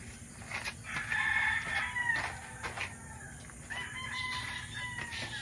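Sick farm chickens cluck steadily while a rooster crows in several drawn-out calls, close and moderately loud, over a constant low hum.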